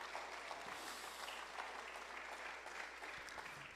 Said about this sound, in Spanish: dale un fuerte aplauso a Dios en esta preciosa tarde